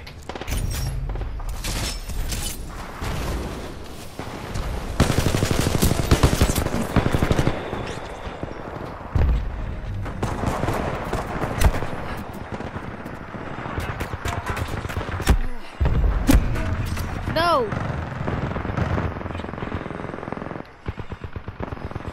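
Pilot turrets in the video game Titanfall 2 fire long, rapid bursts of automatic gunfire mixed with booms and impacts, loud and nearly continuous across twenty seconds, with a few short pauses and scattered in-game sounds.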